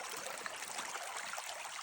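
Steady broadband rush of a river flowing at Greenbrier, continuous and fairly close, with no voices over it.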